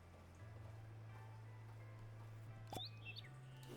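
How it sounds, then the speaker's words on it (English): A bird chirps near a backyard birdhouse: a few faint, brief tweets late in the clip over a steady low mechanical hum, with no talking. "Yeah, we got a bird."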